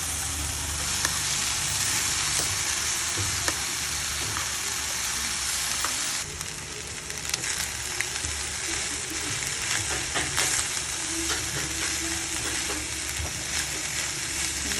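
Chopped kimchi and rice fry in a pan with a continuous crackling sizzle, broken by scraping stirs and a brief dip partway through, with no talking.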